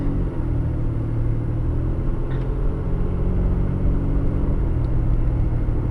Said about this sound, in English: Now I drive off and cancel my signal.